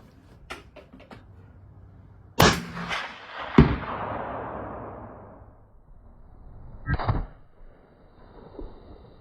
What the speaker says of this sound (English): Rothfuss round, first engine block. We're gonna see if it stops in one shot.